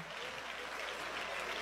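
A church audience gives steady, dense applause, heard faintly and at a distance, with no break across the short stretch.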